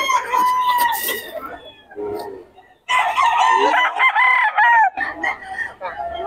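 Roosters crow loudly and close at Bocaue, several crows in a row with short pauses between them, while people talk nearby.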